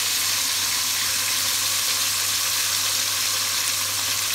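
Rabbit pieces with garlic and parsley fry in a pan, giving a steady, loud, close sizzle that holds evenly throughout with no other sounds.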